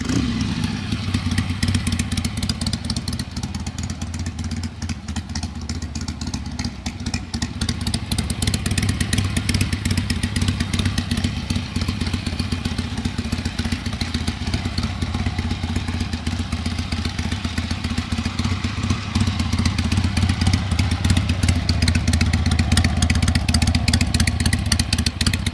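A restored 1973 Harley-Davidson XL 1000 Ironhead Sportster runs steadily up close, its loud, rough V-twin rumble holding for the whole stretch with a slight rise toward the end and no talking.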